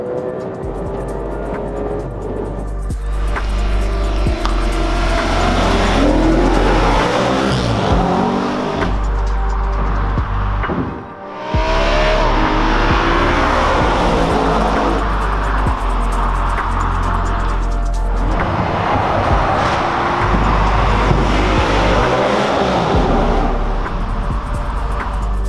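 An Audi RS5 with a naturally aspirated V8 and all-wheel drive roars loudly and close, climbing through long full-throttle revs with gear changes, a brief dip mid-way, then pulling hard again with no talking.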